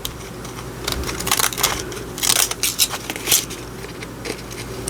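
Scissors cut through a paper bag with uneven, crackly snips and crunching bursts, close up and fairly quiet, with no talking over them.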